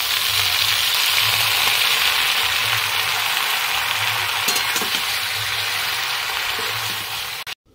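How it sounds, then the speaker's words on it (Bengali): Bottle gourd leaves go into hot oil in a pan and sizzle, a steady, fairly loud frying hiss with a few soft stirring knocks, fading out at the very end with no speech. "লাউ শাকটা এর ভেতরে ছেড়ে দিলাম।"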